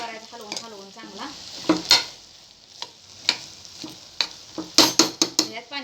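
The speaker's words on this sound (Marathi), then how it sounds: "आता आपण ह्यातनं हलवून घ्यायचं सगळं मस्त" A spoon stirs khichdi in a pan with repeated scraping strokes and sharp clinks against the metal over a light sizzle, the bursts growing busier toward the end.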